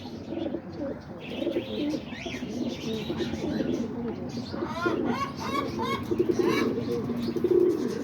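Pigeons in a loft coo repeatedly on a rainy day, the soft throaty calls close and overlapping against a steady background hiss, with faint chirps mixed in.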